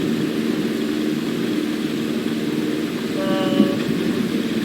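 A propeller plane idles on a runway in a flight video game, a steady droning engine hum with a brief rising whine near the end, no voices.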